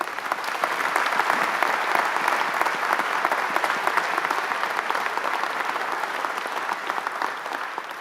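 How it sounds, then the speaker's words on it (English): Applause from a graduation ceremony audience honouring the graduates' family and friends, a dense steady clapping that fills the room for about eight seconds and tapers slightly at the end. "Let's have a big round of applause for your family and friends."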